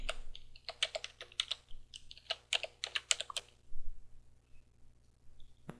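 Passphrase being typed on a computer keyboard: quick bursts of close, crisp key clicks in uneven runs with short pauses, over a faint steady hum and no talking.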